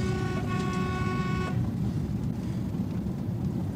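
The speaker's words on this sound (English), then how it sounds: "the only thing that works on a whole car is this lousy horn" A car horn blares in one sustained honk that cuts off abruptly, leaving low road rumble and engine noise behind.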